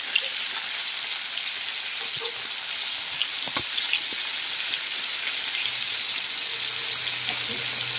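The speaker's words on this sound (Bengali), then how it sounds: "আমি কড়াইতে ফুলকপিটা আর গাজরটা একসঙ্গে ভেজে নিচ্ছি।" Cauliflower and carrot fry together in a kadai with salt and turmeric, giving a continuous bright sizzle that grows slightly louder midway, with a few soft clinks of stirring and no voices.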